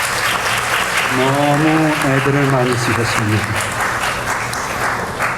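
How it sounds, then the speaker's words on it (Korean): Wedding guests applaud the couple's parents with steady, loud clapping in a banquet hall, continuing throughout while someone speaks over it. "우리 양가의 부모님들에게 박수 한번 크게 해주시죠"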